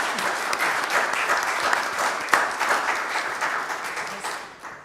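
Applause from the audience at a church community meeting, a sustained, fairly close burst of many hands clapping that stays even for several seconds before starting to thin out.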